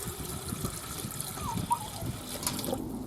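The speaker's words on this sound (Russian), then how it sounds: "Сейчас добавим воды." Water being poured into a samovar outdoors while preparing tea, a faint trickling and splashing at close range under light talk and wind.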